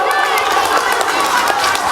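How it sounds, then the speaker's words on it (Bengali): Loud, continuous applause and cheering from a crowd at a school cultural event, greeting a student whose name has just been called, sustained and dense throughout with no break. "অতৃষা মাল, জোরে হাততালি"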